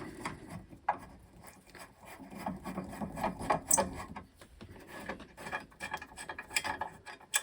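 A long thumb screw on the battery container of a Marconi TF2500 is turned out by hand, giving close, quiet rubbing and scraping with small uneven clicks and rasps in an irregular rhythm, with no talking.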